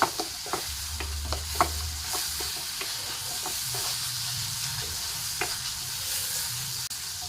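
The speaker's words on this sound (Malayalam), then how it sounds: "ഒരൽപ്പം മഞ്ഞൾപ്പൊടി ഇട്ട് കൊടുക്കട്ടെ മിക്സ് ചെയ്ത് കൊടുക്കുക" Turmeric is stirred into onion and green chili frying in a pan for an eggplant stir-fry. A steady close sizzle runs under a series of sharp spoon scrapes and taps against the pan, more frequent at the start.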